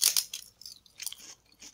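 Crunchy papad is chewed close up, a quick series of crisp, crackling bites and crunches in short bursts with brief quiet gaps between them.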